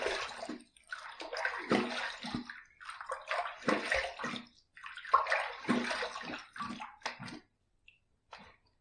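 Face rinsed with water after a wet shave with a Yates 921M razor: repeated close splashing bursts in uneven handfuls, with short quiet gaps between them.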